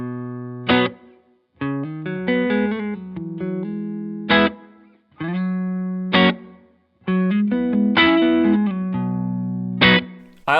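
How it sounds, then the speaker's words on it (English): An electric guitar plays through a Strymon Iridium on its Punch amp model, a classic Marshall-style tone, heard as crunchy distorted strummed chords and single notes in short phrases with brief gaps between them. No one speaks. "we're on to the punch model. This is our classic Marshall sound"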